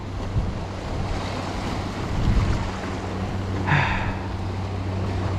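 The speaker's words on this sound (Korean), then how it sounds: "지금 파도가 세가지고" Strong sea waves wash in at a rocky rockfish fishing spot near Gadeok, a continuous loud surf with wind buffeting the microphone and a couple of swelling surges.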